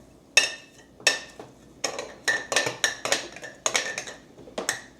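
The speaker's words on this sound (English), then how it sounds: "I'm gonna get a tablespoon Yaupon, stir it" A spoon stirs yaupon tea leaves in a jar of hot water, making about a dozen bright, sharp clinks against the glass. The strikes come close and in an irregular rhythm with short pauses between them.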